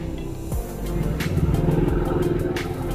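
A motorcycle ride through the Razaganj area beside the Ghazipur–Dildarnagar rail project site, with a steady, close engine drone and low rumble that rises slightly and holds for the whole stretch.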